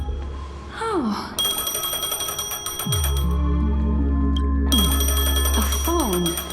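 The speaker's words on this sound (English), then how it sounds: "A phone. Wanna listen in?" A phone rings during a Honkai: Star Rail cutscene, with repeated bright electronic ring bursts over steady low music, loud and close, the ringing pausing midway and then returning.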